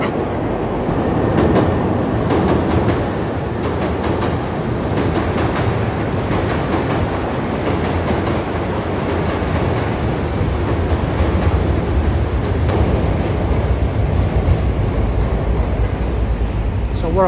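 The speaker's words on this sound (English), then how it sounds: "There's another train coming." A train passing in downtown Chicago near Wabash Avenue, a steady loud rumbling roar of rail cars that holds throughout, heard from street level.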